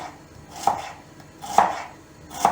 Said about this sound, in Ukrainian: цибулин я буду нарізати соломкою